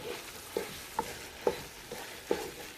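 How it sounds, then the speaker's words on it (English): A spatula stirring okra in a pot for Nigerian seafood okra soup, giving four or five soft, distinct scrapes at an unhurried pace over a quiet low simmer. "So we're going to stir that. I like using a spatula."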